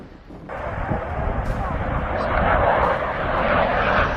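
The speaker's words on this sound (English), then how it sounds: "a BQM-167A target drone used by the US military to simulate enemy aircraft during training exercises." A BQM-167A US military target drone, used to simulate enemy aircraft in training exercises, flies past with a steady broadband jet roar that swells slightly louder and fuller as it continues, heard alone.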